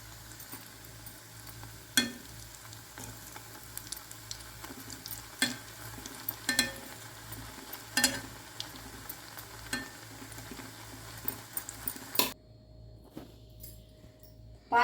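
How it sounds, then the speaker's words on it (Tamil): Bread slices frying in ghee for bread halwa, with a continuous soft sizzle broken by sharp scrapes and clicks of a spatula against the pan, close by with no talking, ending in quiet. "அதே மாதிரி எல்லா பிரெட்டுமே நாம் நெய்யில் பொரிச்சு எடுத்துடலாம்"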